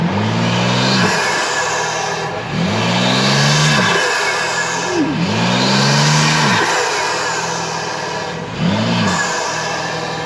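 A tuned 700 hp BMW G80 M3 revved hard through aftermarket intakes, roaring in several rising and falling bursts that repeat about every two and a half seconds, loud and close with no talk.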